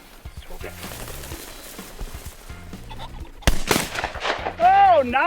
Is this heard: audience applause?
no